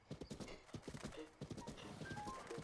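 Horse hooves clip-clop in steady rapid beats in the video game Zelda: Breath of the Wild, close and loud, with a faint whinny-like tone near the end.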